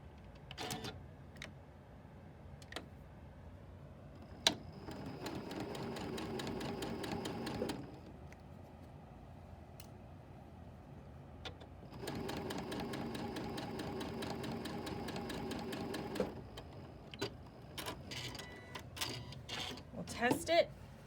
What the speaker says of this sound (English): Okay, so now I'm going to sew on that line.